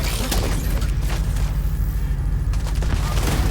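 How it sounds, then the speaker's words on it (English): Sustained gunfire and booming impacts fill a convoy fight in Tom Clancy's The Division 2, a dense, steady barrage of shots with scattered louder bursts throughout. "one person is shooting the other ones"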